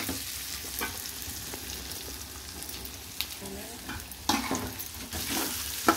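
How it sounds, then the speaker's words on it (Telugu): Chicken pieces fry in oil with masala in a pan: a soft, continuous sizzle broken by scraping stir strokes, with a few louder clatters toward the end. "ఇప్పుడు దీన్ని అంతా ఫ్రై చేసేసుకుందాం"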